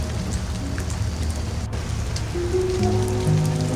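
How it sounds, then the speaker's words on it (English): Gentle midnight rain falls on a rainy vineyard train journey through French wine country, a steady soft patter with occasional closer drops, while faint low tones drift in underneath toward the end. "Not a storm, not urgent, just a patient midnight rain"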